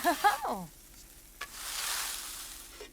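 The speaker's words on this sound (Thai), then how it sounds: "ผัดต่อไปนะคะ ผัดค่ะ" Fish stir-fried in a pan in the video game The Sims 4 gives a steady, soft sizzle with a brief scrape partway through, after a short voice at the very start.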